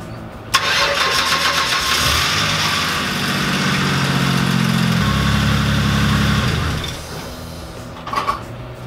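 A Ford Explorer with an exhaust leak cranks and catches with a loud burst, then runs at a steady, raspy idle close by for several seconds before cutting off, followed by a few clunks.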